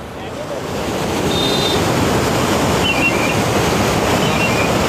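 A loud, constant roar of river water rushing from the lifted Musi Project dam gates in Nalgonda, a powerful broadband torrent that swells in at the start and holds steady throughout.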